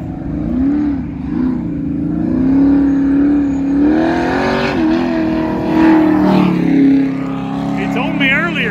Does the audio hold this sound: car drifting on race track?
yes